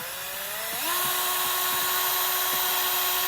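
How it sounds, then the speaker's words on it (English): A power drill with a small bit whines steadily at close range, its pitch rising as it spins up and then holding while it bores a pilot hole. "I'm going to just take a small drill bit and just make a pilot hole here for us"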